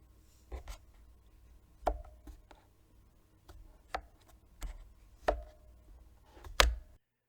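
A handful of soft, muted clicks and taps close by as the flip-out feet of a Leopold FC980M PD keyboard deploy, spaced irregularly over several seconds with quiet pauses between them.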